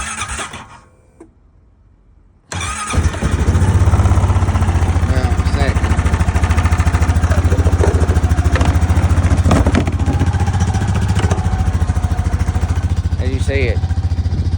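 A 2025 Honda Rancher 420 ATV on 0W-30 oil and premium fuel cold-starts at about 15–26 °F: a brief quiet pause, then the engine catches and settles into a loud, steady, close idle.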